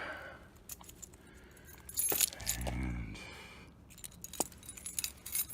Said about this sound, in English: I dropped my keys.